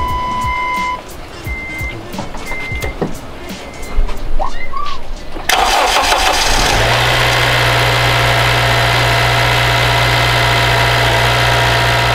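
Honda Civic Si, 8th generation, with a newly installed aftermarket fuel rail, starts partway through after a quiet stretch with faint chirps, then settles into a steady, loud, close idle hum that runs to the end.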